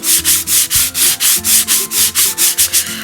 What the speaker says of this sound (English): take a piece of sandpaper and rub them down